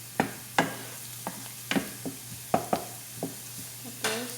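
Garlic sautés in a pan, with a steady low sizzle under a series of sharp scraping and clinking strokes from a spatula stirring it, close and irregular, with no talking.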